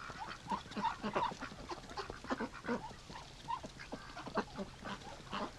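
Rouen ducks eating ice that has dropped from a roof give off repeated honking quacks and calls at moderate distance, irregular and overlapping, over a faint background.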